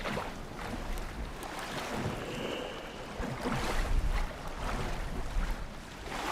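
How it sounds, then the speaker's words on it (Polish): Ocean waves in the survival game Sons Of The Forest, a steady loud wash of surf and wind-like rushing at sea that swells and recedes continuously, with no talking. "Jakie fale."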